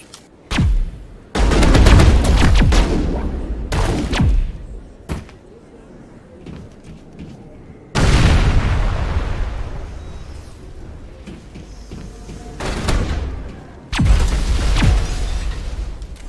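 Gunfire and heavy impacts in a Mass Effect firefight on the Citadel, several sharp loud blasts and slams spread apart with ringing decay, close and punchy, with no one talking.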